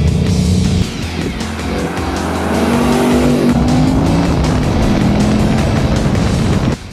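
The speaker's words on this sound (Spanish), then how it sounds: "ese golpecito de gas que da al reducir" A Ford Mustang Bullitt V8 rumbles loud and close, dips briefly, then swells with a rising rev as the throttle is blipped on a downshift, holding a strong engine roar before cutting off.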